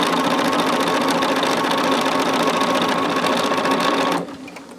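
A sewing machine stitches continuously at a steady fast rhythm, loud and close, its motor whir and needle chatter running alone until it stops abruptly near the end.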